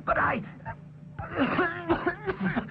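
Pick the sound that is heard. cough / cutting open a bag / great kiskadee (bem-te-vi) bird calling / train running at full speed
cough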